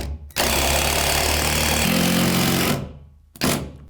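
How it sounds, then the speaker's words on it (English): A power driver sinks a screw into wooden toe kick framing for base cabinets in one loud, close, rattling burst of about two and a half seconds, followed by a brief second burst. "And I can put more screws in it."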